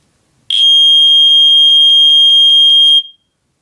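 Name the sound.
smoke detector alarm sounding during button test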